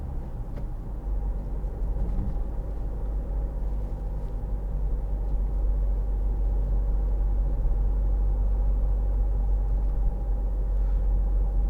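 A 2012 Land Rover Freelander 2 TD4 diesel pulls uphill at low revs, a steady deep engine rumble and drone heard from inside the cabin, continuous and even without talk.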